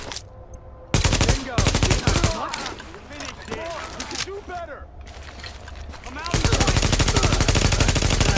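Gunfire in The Division, long rapid automatic bursts, loud and close, broken by a pause, with someone talking over the gaps and the shooting.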